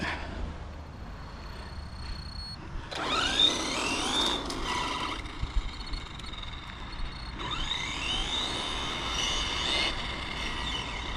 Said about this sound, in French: alors on est un peu bruyant sur la transmise parce que j'ai pas tout à fait exactement le bon module de pignon